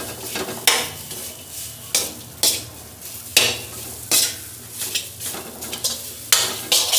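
Dal filling for kachori is pressed and stirred in a hot pan, a rhythmic series of loud scraping spatula strokes over a continuous low sizzle, roughly one stroke per second.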